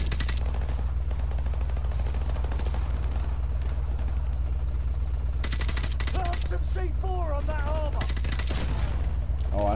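Automatic gunfire from the player's weapon in Call of Duty 4: Modern Warfare, rapid bursts over a constant low engine-like drone, with brief electronic tones partway through.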